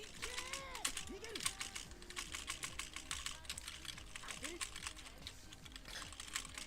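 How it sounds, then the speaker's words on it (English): Rapid clattering keystrokes on a computer keyboard during a mouse-and-keyboard game of mechs, dense and continuous up close, with a voice talking underneath at times. "Good old mouse and keyboard."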